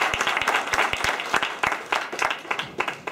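Audience applause closing a lecture session at a university talk series, a dense burst of many hands clapping steadily and fairly close for the whole stretch.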